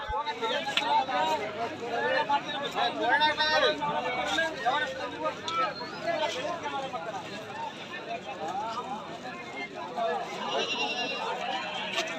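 Sheep and goats bleating at a busy livestock market in Bhadravati, calls rising repeatedly over a steady crowd babble with people talking throughout.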